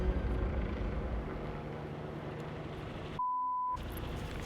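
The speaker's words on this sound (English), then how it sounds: "That's like an army helicopter." A low, rumbling engine drone from an army helicopter flying overhead fills the scene steadily, briefly interrupted by a short electronic beep tone.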